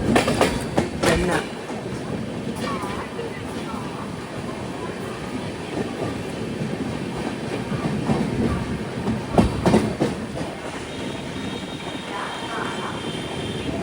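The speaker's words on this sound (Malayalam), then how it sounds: "ട്രെയിൻ ഇപ്പോൾ നെല്ലൂർ സ്റ്റേഷൻ പിന്നിടുകയാണ്." The Coromandel Express sleeper train rolls past Nellore station with continuous rumbling and rhythmic clickety-clack from the carriage, plus a few sharp clanks, while a person talks over it.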